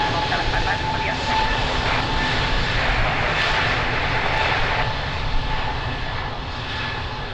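At Lisbon Airport a plane's engines hold a loud, steady roar as it takes off, with faint radio chatter underneath.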